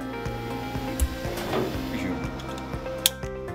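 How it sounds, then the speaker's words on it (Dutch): A standard 3D printer runs with steady motor hums and whirring tones, punctuated by small ticks and clicks as the print head moves, in an indoor workshop. "De opleiding heeft ook een gewone 3D-printer aangeschaft."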